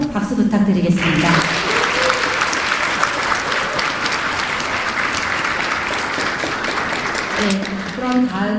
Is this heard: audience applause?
yes